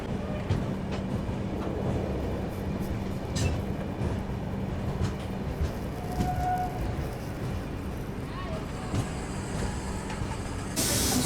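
The 12078 Vijayawada–Chennai Central Janshatabdi Express at New Guntur station gives a steady rail rumble and hiss, with faint clicks and a few brief squeaks over the constant noise.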